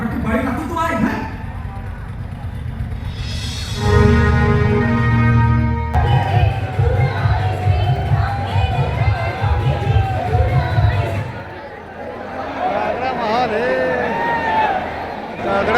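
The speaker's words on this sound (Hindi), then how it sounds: "तगड़ा भीड़ है भाई देख सकते हैं थे।" A dense crowd of moviegoers pours out of a packed cinema on a housefull opening day, loud overlapping chatter and shuffling close by, with someone talking over the din throughout.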